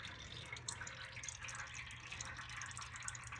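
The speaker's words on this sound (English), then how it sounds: "Now we got it to start dripping out of the fill port." Coolant drips out of a Toyota radiator's fill port in a faint, steady trickle of small drops, heard alone with no voices.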